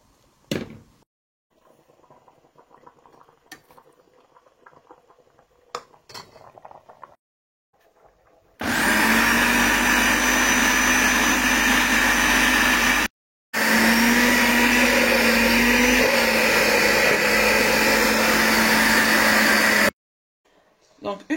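A kitchen blender purees cooked eggplant into a paste, running loud and steady in two long bursts with a short pause between, after some quieter handling sounds.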